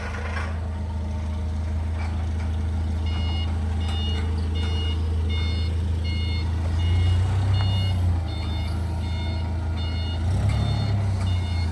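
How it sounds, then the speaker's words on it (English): Steady, evenly spaced forklift reversing beeps repeat over the low rumble of its idling engine, with the motor swelling briefly a couple of times. "We got the forklift out."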